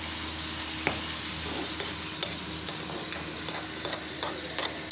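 Tomatoes with crushed ginger and garlic sautéing for pav bhaji, a steady close sizzle with sharp periodic taps and scrapes of a spatula against the pan, no voices.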